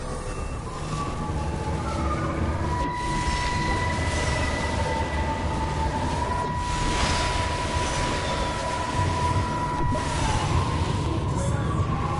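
A steady rumble of a train at a station in the video game Everybody's Gone to the Rapture runs throughout, with faint wheel squeals and metallic whines drifting over a dense, constant roar.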